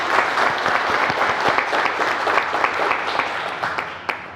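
An audience at a California pizza contest applauds as the judges, restaurateurs and a past champion, are introduced, giving a dense burst of clapping that stays loud and even for about four seconds before thinning out.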